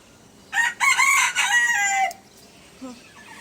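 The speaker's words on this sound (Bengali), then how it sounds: "মুরগিটা খুবই ফাজিল, এই যে ডাকাডাকি শুরু করছে, থামছে না।" A rooster crows loudly in several drawn-out bursts, followed by a short, softer cluck near the end; no talking.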